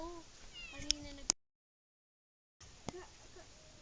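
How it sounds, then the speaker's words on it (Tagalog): A cat meows a few times outdoors in a rural Bicol province area, short mid-pitched calls close by, with sharp clicks and people talking around it; the sound cuts out for over a second partway through. "Tingnan mo nga yung pusa,"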